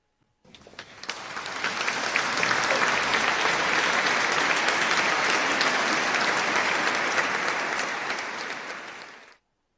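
Recorded applause played back in place of live clapping, a dense wash of many hands that swells in, holds loud and steady for several seconds, then cuts off abruptly.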